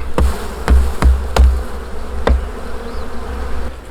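Honeybees buzz steadily around an open hive during a late-morning inspection, with a close droning hum and several sharp knocks from frames being handled.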